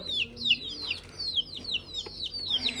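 Young chicks cheep repeatedly in quick, high, descending peeps, close and fairly loud, with a faint low murmur underneath.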